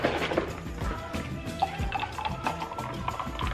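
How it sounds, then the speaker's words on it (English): Oat milk poured into an iced matcha latte, a soft liquid trickle with faint drips and clinks close by, fairly quiet and continuous for a few seconds with no talking. "And then I put in some of the oat milk."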